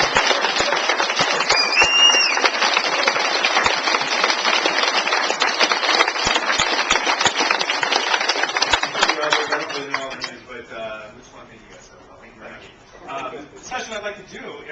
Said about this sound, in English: round of applause to the guys who put this together